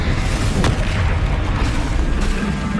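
A Confringo fire spell exploding in the wizarding game Hogwarts Legacy, a deep rumbling boom with a sharp crack near the start, sustained low roar continuing throughout, loud and close.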